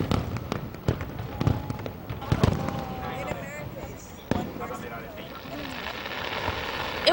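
Fireworks from a downtown office building open Sendai's Tanabata Festival, with sharp distant bangs and crackles bursting at irregular intervals while a crowd murmurs and voices chatter throughout.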